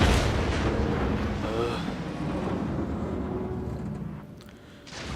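Main guns of the Tirpitz, a Tier 8 Kriegsmarine battleship in World of Warships, fire a heavy booming salvo that rumbles and fades over several seconds, followed by a quieter tail and a late sharp crack.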